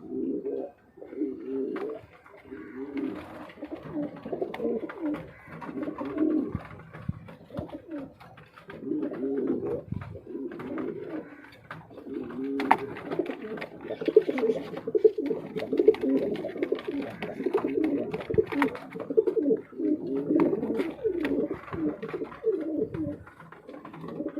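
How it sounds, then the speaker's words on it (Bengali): A pair of Lahori running pigeons coo continuously nearby, with low rolling, throaty calls repeating in overlapping waves and a few faint chirps in the background. "এই পেয়ারটি দেখতেই পাচ্ছেন শৌখিন রানিং পেয়ার দেখতেই পাচ্ছেন কি সুন্দর করে ডাকতেছে"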